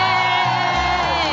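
A canned crowd cheer rings out on a radio show, a loud, continuous roar of whoops and shouts from many voices, heard alone.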